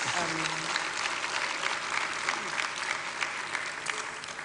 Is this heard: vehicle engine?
no